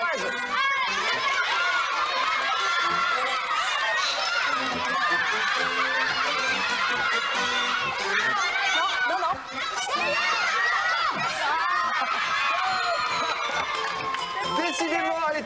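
Studio audience at a 1992 French children's TV game show cheers on two contestants, a continuous loud mix of shouts, excited chatter and laughter from a crowd, sustained throughout with a brief dip partway.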